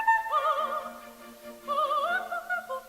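A high operatic soprano voice sings sustained, vibrato-laden notes in two phrases, moderately loud and clear with no accompaniment evident.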